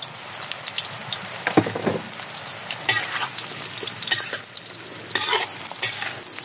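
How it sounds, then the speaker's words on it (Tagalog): Saba bananas frying in hot oil, a steady bubbling sizzle with occasional stirring clatter, close and continuous with no talking. "ilalagay na natin itong saging. Ipiprito na natin siya."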